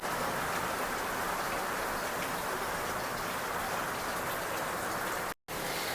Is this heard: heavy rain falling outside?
yes